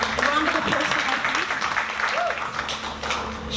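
An evening careers-event panel audience gives a round of applause for a manager, steady clapping heard under a speaking voice for a few seconds.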